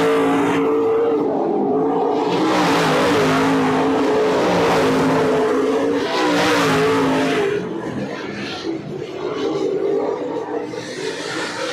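Race car engine held at full throttle on the Deadhorse Creek Speedway oval, a loud, continuous drone that rises and swells in pitch as the car comes off the turn, then eases slightly.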